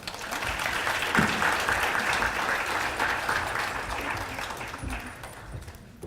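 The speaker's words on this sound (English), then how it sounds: "Give them another round of applause" Sustained audience applause fills a health equity summit hall, dense and steady for several seconds before tapering slightly toward the end, with a faint voice underneath near the start.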